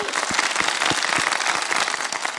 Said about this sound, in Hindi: बिल्कुल सही बताया आपने, वेरी गुड, तालियां बजाएं।